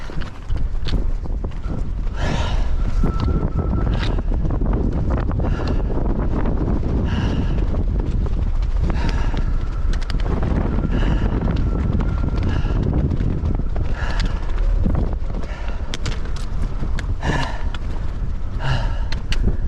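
Strong wind buffets and roars across the microphone in a loud, continuous rumble, with scattered knocks and rustles mixed in, on the Appalachian Trail over the Bigelow mountains.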